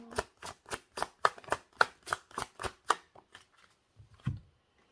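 Tarot cards riffled in a quick run of about ten crisp, close bursts, each a short papery flutter, tapering into a few softer shuffles and a low tap at the end.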